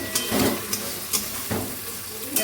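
Curry sautéing in a pan sizzles softly and steadily, with a few brief scraping stirs of a spoon against the pan close by.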